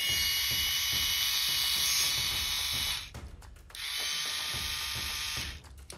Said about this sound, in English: To test the motor, flip it over.